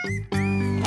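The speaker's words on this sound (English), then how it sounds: "cat, 고양이," A domestic cat gives two close, clear meows in quick succession, the second longer and drawn out.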